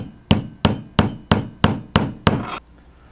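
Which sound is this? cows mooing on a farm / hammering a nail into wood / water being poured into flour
hammering a nail into wood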